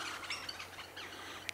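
Small birds chirp and call at a lakeside bird feeder with a magpie close by, a brief faint mix of tweets and a sharp call near the end over steady background hiss.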